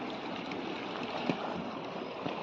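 Strong water pours and churns through a stream, a steady dense rush close by with no voices over it.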